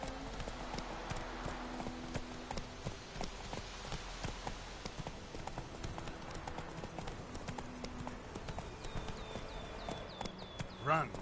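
Roach the horse gallops in Witcher 3, a steady clip-clop of hooves running under ongoing character dialogue and game ambience.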